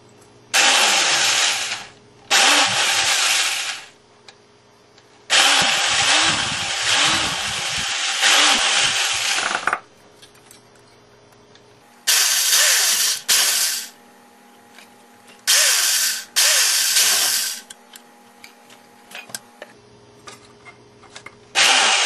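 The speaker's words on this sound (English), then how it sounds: "We've got all the holes drilled now" A power drill with a 3/16-inch bit boring holes in metal whines in repeated bursts of a few seconds each, separated by short pauses, close and loud with a faint hum between runs.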